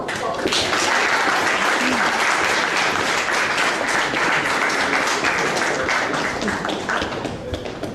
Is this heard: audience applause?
yes